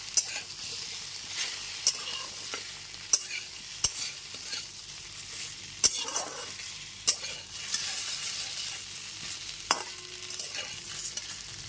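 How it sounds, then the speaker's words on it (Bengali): Boiled taro and potatoes fry and sizzle together in a pan with turmeric, a steady hiss broken by sharp scrapes and knocks of a spoon stirring every second or two, close by with no talking. "হলুদ গুঁড়োটা খুব ভালো মতো মিশিয়ে নেবার পর আলু আর কচুটাকে খুব ভালো মতো একসাথে ভেজে নেবো"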